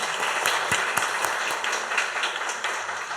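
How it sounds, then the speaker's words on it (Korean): A church congregation applauds during a Sunday morning worship service, dense and fairly loud clapping with audible individual claps throughout, no talking over it. "박수로 한번 격려하십시오"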